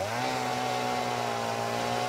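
Chainsaw in the video game Satisfactory cutting through plants, a steady, loud motor drone with strong harmonic bands that hold an even pitch for about two seconds, with no break and no talk.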